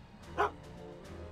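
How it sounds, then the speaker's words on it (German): A dog in the Back to the Future adventure game gives a single short bark, loud and close, over a quiet low background. "Braver Hund."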